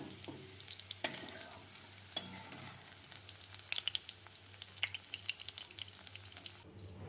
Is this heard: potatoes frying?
yes